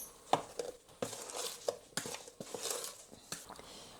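Baking powder being stirred into plain flour in a bowl for a cake-or-bread recipe: soft, irregular scraping and tapping strokes, close and quiet, with no talking.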